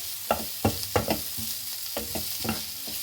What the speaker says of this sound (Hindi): 3 से 4 मिनट के लिए इसे हम अच्छे से भून लेंगे।